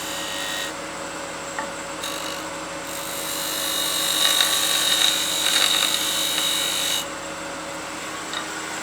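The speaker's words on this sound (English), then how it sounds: "The skew gives you a really good slicing cut on end grain like this." A skew chisel slices end grain on a spinning lathe while turning a wooden snowman oil candle, a steady whirring hum with a brighter scraping cut rising in the middle.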